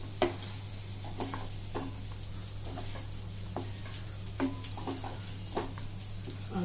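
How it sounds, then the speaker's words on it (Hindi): Whole spices dry-roasting in a pan for homemade sambhar powder, stirred with repeated scraping clicks and a light crackle over a steady low hum, close and moderately quiet. "ये मसाला सब पूरा भून के लिया है मैंने"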